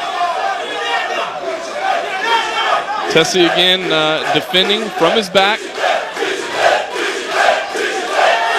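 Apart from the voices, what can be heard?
crowd cheering at MMA fight in Rio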